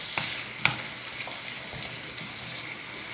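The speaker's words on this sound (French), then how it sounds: "on va laisser cuire la viande avec tous ces épices, les pommes de terre" Minced meat and potatoes with harissa and spices sizzle steadily in a pan, a close, even frying hiss punctuated by a few spatula clicks and pops.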